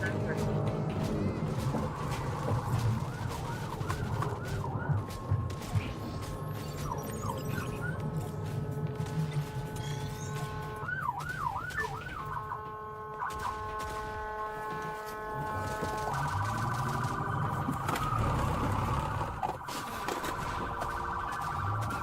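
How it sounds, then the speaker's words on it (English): A video game police siren in Fortnite wails in rising and falling sweeps over steady tonal drones and busy game sounds, with faint voices in the background. "The sound of police sirens"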